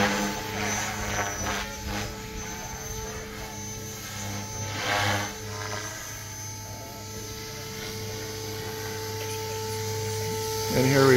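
An RC helicopter flying aerobatic and inverted moves in self-leveling horizon mode, its rotor drone and whine swelling and fading as it maneuvers at a moderate distance, with occasional voices nearby.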